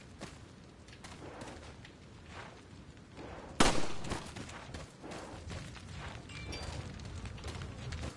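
Fireworks going off in Resident Evil 4, a sharp loud crack standing out over a dense, crackling background of pops and rumble that carries on steadily from start to end.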